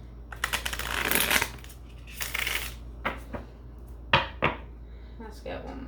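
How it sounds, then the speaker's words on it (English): A deck of tarot cards is shuffled by hand in close, crisp riffling bursts, pausing between passes and ending in a few sharp taps and clacks. "Let's get a good shuffle on this for you, Caps."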